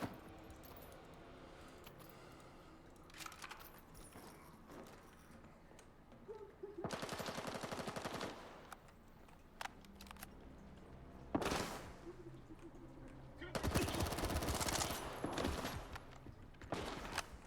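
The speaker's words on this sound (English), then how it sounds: "I put a whole mag into him and he doesn't go down." Automatic gunfire from a full magazine emptied in Stalker 2, heard as several bursts of rapid shots, the longest around the middle and near the end, separated by single sharp reports and quiet gaps.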